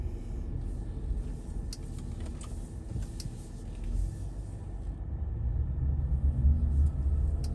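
A car creeps slowly in reverse through a park, a low engine rumble that swells slightly toward the end, with faint tapping and clicking noises inside the cabin.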